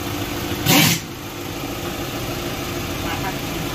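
A Volkswagen Ameo automatic engine idles with a steady, even hum after a gearbox repair, broken early by a short, loud burst of noise near the start.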